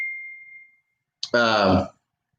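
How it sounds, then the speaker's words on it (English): A phone notification gives a single short ding that fades out. A voice speaks briefly right after it. "it's dinging on y'all, my phone"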